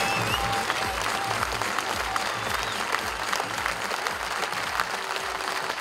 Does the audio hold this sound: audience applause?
yes